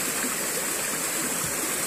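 Water flows in a village irrigation channel with a constant, broad rushing wash, steady and moderately distant, with no talk over it.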